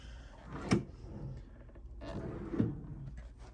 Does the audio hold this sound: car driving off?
no